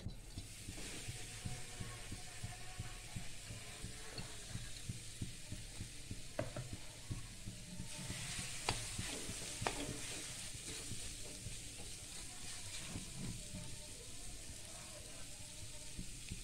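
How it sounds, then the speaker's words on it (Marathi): Steady sizzling of grated raw mango in a hot pan with a spoon scraping and stirring throughout, occasional sharper clinks against the metal. "कढई तापत ठेवली आहे। आता यामध्ये आपण किसलेली कैरी घालूया।"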